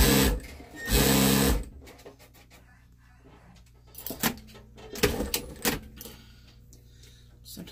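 A sewing machine that loads its bobbin while sewing, stitching Santa bags in short bursts: a longer loud run near the start, then several brief starts and stops with small mechanical clicks between them.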